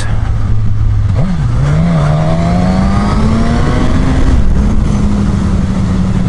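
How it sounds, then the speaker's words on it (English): A 2015 Suzuki GSX-S1000 motorcycle engine pulls steadily under acceleration while riding, its pitch rising through a quick shift dip and climbing again under wind noise, loud and continuous. "the acceleration is really good, and I know I can't compare it to my Hayabusa, and it really does shift"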